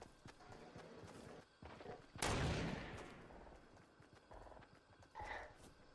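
Sniper rifle shot in Fortnite gameplay: one loud, sharp crack with a short ringing tail stands out above a busy background of game sounds, followed a few seconds later by a fainter, more distant burst.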